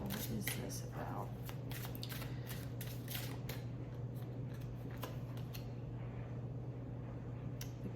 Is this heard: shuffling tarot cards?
yes